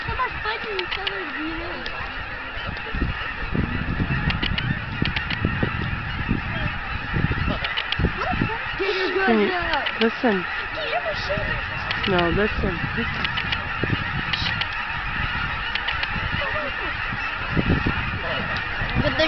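A dense flock of geese honks continuously, loud and close, with overlapping calls throughout and people talking over the din.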